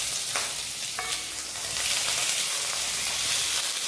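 Two small tomatoes fry in a pan for a South Indian chutney, giving a steady close sizzle and hiss, with a couple of soft stirring scrapes early on.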